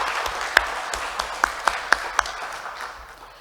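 An audience at an architects' association candidate debate gives a sparse round of clapping, with a few sharp, distinct claps standing out before it fades.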